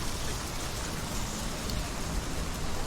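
Rain in the Hellblade: Senua's Sacrifice video game, a steady dense hiss of falling drops pattering on surfaces, even and continuous over the whole short stretch with no voices.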